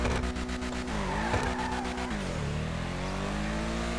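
An Ubermacht Cypher stock car accelerating in a racing video game, its engine climbing through gear shifts with pitch sweeps and a loud tire skid, continuous and close throughout.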